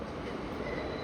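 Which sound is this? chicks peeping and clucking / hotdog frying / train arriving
train arriving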